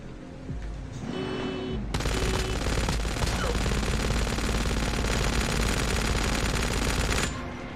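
Gunfire from the mobile shooter Call of Duty Mobile, fought during a snowboard chase. A loud, close automatic weapon fires in one long, unbroken burst lasting several seconds, with brief game sounds before it starts.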